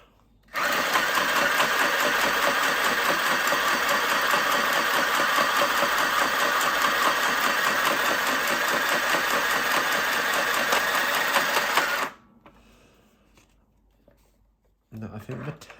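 A sewing machine runs continuously for about eleven seconds, stitching a vellum shaker envelope with a loud, steady mechanical whir, then stops abruptly, leaving quiet handling noise.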